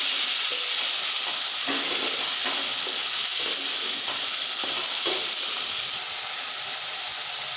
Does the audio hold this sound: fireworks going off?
no